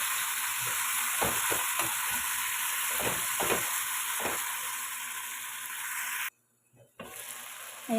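Crushed tomato sizzles and fries in a pan of chicken biryani, a loud, close, steady crackle with a few stirring knocks, cutting out briefly near the end before the sizzle resumes.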